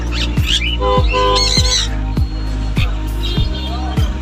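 Yellow-sided conures at a Sherampore pet market give loud, harsh squawks close by, repeating roughly every half second in a steady series over a dense bed of other chattering birds and market din.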